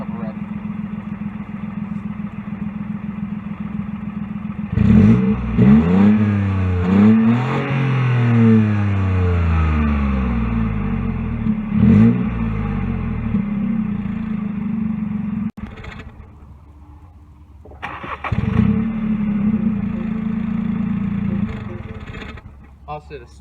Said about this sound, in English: So this is just running, not much sound to it, and I'll give it a couple revs.